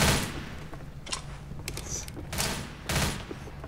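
Gunfire in the video game Left 4 Dead comes as several sharp bursts of shots over a noisy game background, with a person's voice faintly under it.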